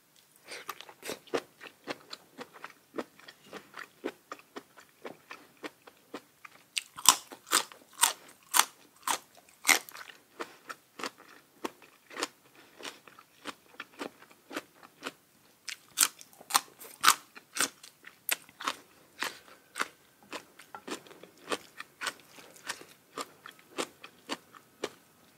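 Close, crisp crunching as someone bites and chews crunchy bitter melon and spicy beef omasum in a spicy Thai pounded salad, with a steady run of crackly bites throughout and no talk.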